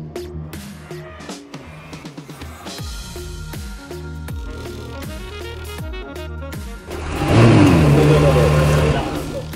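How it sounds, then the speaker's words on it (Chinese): Honda NSX engine revving inside a Honda showroom in Japan, a series of sharp throttle blips rising and falling in quick succession, then a louder sustained rev near the end, close and prominent with voices in the background. "呢下雄厚响亮嘅引擎声，我都系第一次听噶咋"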